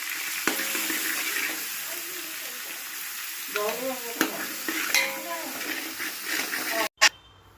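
Chilli kharda roasting in a pan with a soft sizzle, broken by stirring scrapes and clinks of a utensil against the pan, with faint voices and a brief gap near the end.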